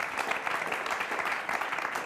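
A live audience at a poetry dialogue event claps together in a brief, even burst of applause, moderately loud with no voices over it.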